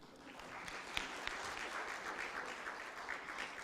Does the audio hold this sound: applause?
yes